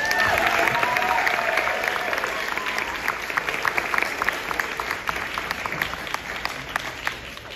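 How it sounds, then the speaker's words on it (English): Dense, steady applause from a school audience at a first-grade student-of-the-six-weeks award ceremony, filling the room throughout and easing slightly toward the end, with faint voices mixed beneath the clapping. "let's all give them a round of applause and come up"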